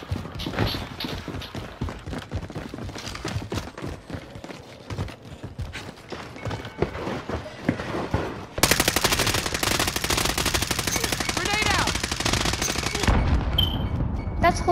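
Rapid bursts of automatic gunfire echo in the video game Warzone on Rebirth Island, scattered shots giving way to a long, dense, loud volley.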